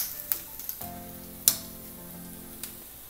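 Capsicum and mushrooms frying on a high flame for a restaurant-style chilli mushroom starter give a faint, steady sizzle with a few sharp pops and ticks scattered through it.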